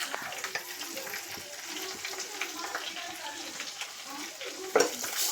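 Coriander and turmeric powder being stirred in a hot pan with oil for a Kerala puli curry, a soft sizzle with repeated spoon scrapes and a brief clatter near the end, with a voice speaking over it.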